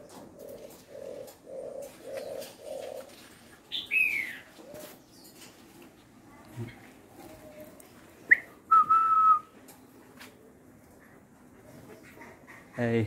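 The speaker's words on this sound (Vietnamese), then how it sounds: "Đây, đây là chim cu xanh." Green pigeon in an aviary cooing close by: a run of four soft, evenly spaced low coos at the start, followed by scattered whistles and chirps from other birds at a moderate level.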